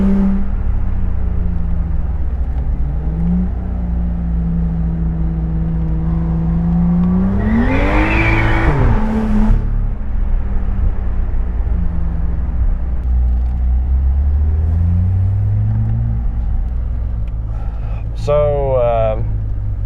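A tuned BMW 535i M-Sport heard from inside while driving, engine drone rising and falling through gear changes with a sharp rev swell midway, loud and continuous, with a person's voice over it.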